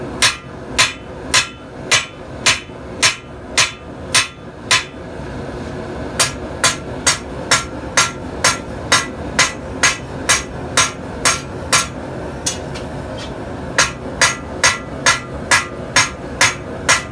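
Hammer forging the bevel of a 52100 steel drop point hunting knife, with steady, evenly spaced ringing blows, roughly thirty strikes in all, broken by a short pause early on. Close and loud, no talking.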